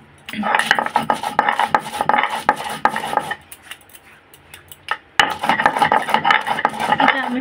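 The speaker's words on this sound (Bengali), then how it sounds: "এটা দিয়ে একটুখানি জল দিয়ে আমি পেতে নেব।" Garlic and whole black mustard seeds are ground with a little water, giving rhythmic scraping and knocking strokes, close and fairly loud, that pause briefly midway before resuming.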